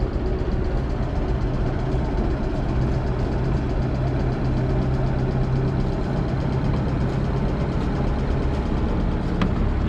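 A boat engine idling steadily nearby, a constant low rumble with a faint rhythmic knock, holding even for the whole stretch.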